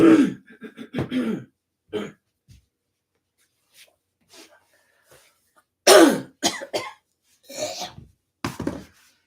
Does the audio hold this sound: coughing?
yes